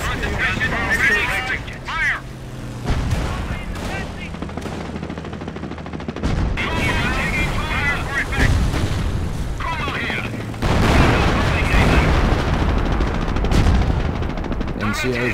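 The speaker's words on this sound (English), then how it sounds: "Creeping barrage on my markers." A creeping artillery barrage rolls on in Company of Heroes, with heavy booms and rattling gunfire in dense, continuous bursts, loud and close, under shouted battlefield voices and music.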